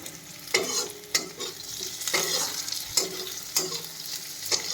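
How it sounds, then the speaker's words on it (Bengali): Onion fries in a cumin tempering for tengra fish: a continuous sizzle punctuated by regular, sharp spatula scrapes and taps against the pan, close and fairly loud. "এবার ট্যাংরা মাছের জন্য জিরে ফোড়ন দিয়ে পেঁয়াজটাকে দিয়েছি বসিয়ে"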